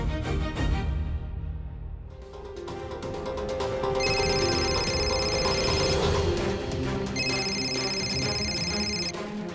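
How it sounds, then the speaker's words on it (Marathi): A household telephone rings in two long electronic bursts over background music, with no talk. "अविनाशच्या घरून फोन"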